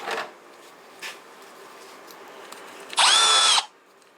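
A power drill whines loudly for about half a second near the end, a steady high-pitched burst after quieter faint clatter, drilling out a broken head stud on a VR6 engine.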